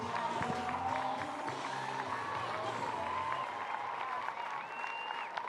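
A crowd applauds steadily at a women's professional baseball game in a large space, a dense wash of clapping heard from a distance.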